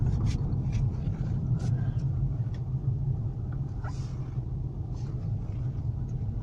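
A car engine idling as the car parks, a steady low rumble with a few faint clicks and knocks over it.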